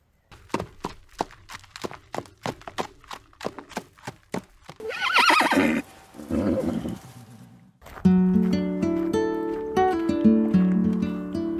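Clydesdale horse hooves clip-clop in a steady rhythm, followed by a loud, drawn-out whinny and snorting, then a sustained tonal, musical stretch.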